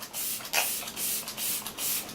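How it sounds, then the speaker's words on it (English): Kat Von D Lock-It setting spray is misted lightly in several short, close hissing bursts with brief gaps between them. "I'm just going to go in with my Kat Von D Lock-It setting spray."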